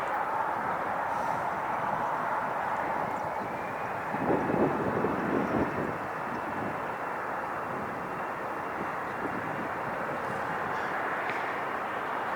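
A Delta Airlines Airbus A319 jet at LAX gives off a steady broadband roar with a faint high whine, holding even across the whole stretch and swelling slightly for a moment partway through.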